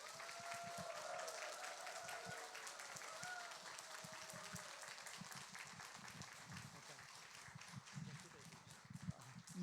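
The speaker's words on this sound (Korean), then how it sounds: "간사님 나오실 때 큰 박수로 한번 환영해 주시면 좋겠습니다." Applause from a church gathering welcoming a worship leader to a praise and testimony service, steady and fairly quiet with distinct individual claps and some background sound mixed in.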